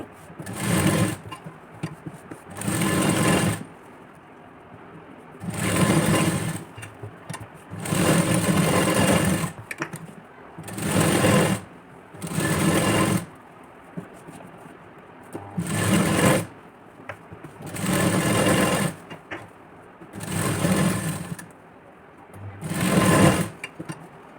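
A sewing machine stitches the inner lining along a padded blouse neckline, running in repeated close, loud bursts of steady whirring with short pauses between runs.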